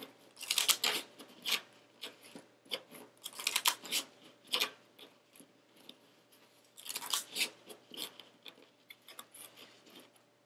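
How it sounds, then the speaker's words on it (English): A deck of playing cards shuffled by hand close up, in three crisp bursts of riffling and rapid flicking, with quieter handling clicks and taps between them and no talking. "I am going to start with shuffling up my deck"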